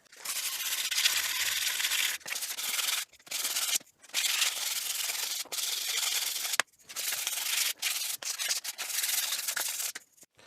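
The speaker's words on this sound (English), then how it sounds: "so now we'll just give it a quick sanding" Sandpaper rubs over hardened epoxy on a 3D-printed filament stand part, a bright, steady scratchy hiss in long strokes broken by a few brief pauses, close and fairly loud with no talking.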